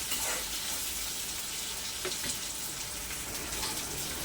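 Coconut masala paste sautéing in a pan, with a steady, close, soft sizzle and hiss running throughout, no voices.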